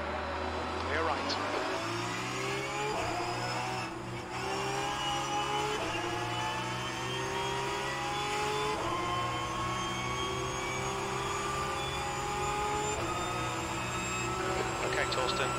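Porsche 992 Cup race cars accelerate at Hockenheim in rFactor 2, a loud, close engine climbing through repeated gear changes, with other cars droning around it and a voice speaking at times.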